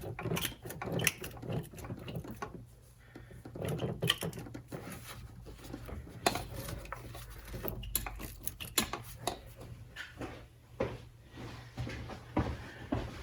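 Loose intake manifold on a Nissan 300ZX turbo engine being wiggled by hand, giving irregular metallic clanks, knocks and rattles, close up and moderately loud, in uneven bursts.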